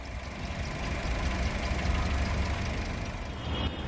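A 2019 Mitsubishi Eclipse Cross with a 1.5-liter four-cylinder engine idles just after startup, giving a steady, close, low rumble with an even mechanical chatter and no talking.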